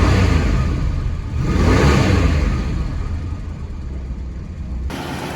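A 1967 Ford Mustang with a 289 V8 runs steadily at idle, a continuous low engine rumble with a slight exhaust tick, swelling briefly as if blipped early on, then settling into a smooth even idle.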